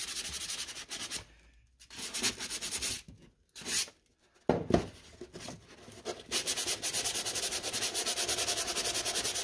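Hand sanding a painted wooden box for a distressed relic finish, lightly leaving some of the old lettering: steady close rubbing strokes in even rhythm, broken by a few short pauses.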